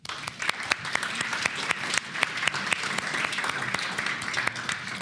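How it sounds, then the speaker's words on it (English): A conference audience applauds warmly and continuously, a dense, even clatter of clapping lasting several seconds. "All right, round of applause."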